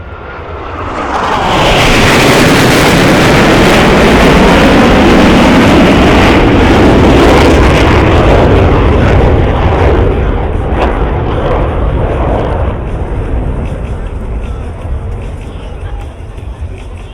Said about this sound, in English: Accelerates to 500 miles per hour. They will perform a reversal turn back toward the flight line.